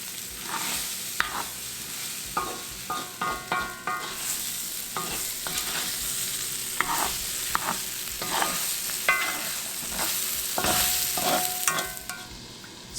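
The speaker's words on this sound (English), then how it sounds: "we'll stir fry this for maybe 3 or 4 minutes" Chopped bottle gourd sizzling in a pan while being stir fried, a steady frying hiss with repeated scraping and clinking of a utensil stirring, no speech.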